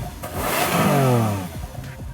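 Engine of a 2013 Lamborghini Aventador rising on the throttle behind the driver, a loud close rev that swells and falls within a couple of seconds.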